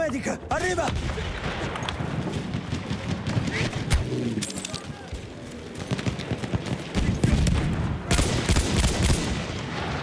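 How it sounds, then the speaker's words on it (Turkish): Machine gun fire rattles in the online shooter Battlefield 1, with loud continuous bursts and scattered booms over game noise, while players talk throughout. "Bildiğin makinalı tüfek"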